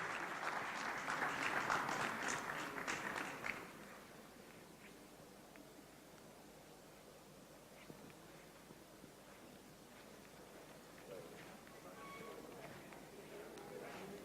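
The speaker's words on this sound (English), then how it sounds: "can we hear a huge round of applause, Mr. Oren Drury." A convention audience at the TAFI Convention 2015 applauds loudly for a few seconds. The clapping then drops to a quiet room hush with faint rustling and a voice in the background.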